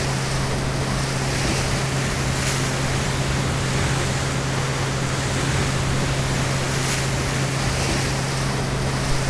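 Boat motor running on water in the game DayZ, a constant steady drone with a strong low hum, wash of waves and wind noise, heard alone with no talking.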